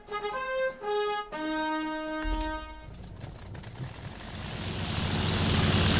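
Planes take off in the Wings Remastered Edition video game: a few short tonal musical notes ring out, then a droning aircraft engine takes over and swells steadily louder.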